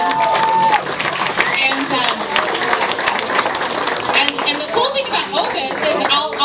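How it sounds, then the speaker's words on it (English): Applause for a bartender in a busy bar during a holiday music event: lively clapping and cheering mixed with loud crowd chatter throughout. "Give a round of applause for David."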